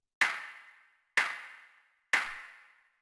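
Three separate clap hits for a piano house track, each a sharp snappy crack with a tonal body and a longer reverberant tail, played alone and evenly spaced about a second apart.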